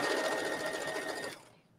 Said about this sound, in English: I'm just going to start at the one end, sew all the way down